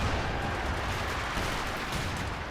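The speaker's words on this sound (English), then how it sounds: "Sniper under fire from artillery." Artillery shells pounding a sniper's position in the real-time strategy game Company of Heroes 2, a dense, continuous rumble of booms and blasts that stays loud throughout with no voices over it.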